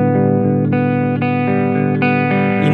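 Electric guitar played through a Taurus SH8 Qube preamp with the treble knob at zero, a sustained distorted chord ringing loud and steady, restruck a few times.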